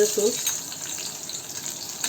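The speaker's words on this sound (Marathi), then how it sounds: "लसूण छान गुलाबी कलर येईपर्यंत परतून घ्यायचं आपल्याला" Garlic fries in hot oil in a wok with a soft, steady sizzling hiss. A brief louder clink opens the sound, which then holds at a low, even level throughout.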